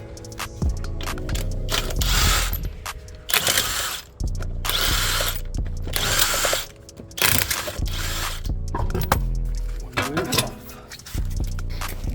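A ratchet tool tightens the locking wheel nut on a 2015 Citroen C4 Picasso. Bursts of rapid mechanical clicking repeat close and loud, with someone talking in between.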